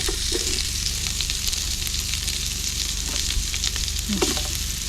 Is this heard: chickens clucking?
no